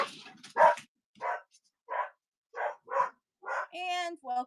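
A dog barks in a string of separate, evenly spaced woofs, fairly close and loud, ending with a few higher whimpering yips; no talking.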